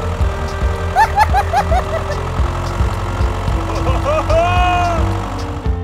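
A mini DIY tractor engine chugs at a steady idle under busy background activity, with bright tonal chirps and whistling sounds layered on top, moderately loud and continuous.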